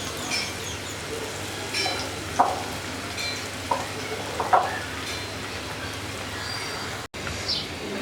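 Chicken pakoras frying in hot oil, a steady broadband sizzle that runs throughout with occasional brief stirring clinks and scrapes near the pan.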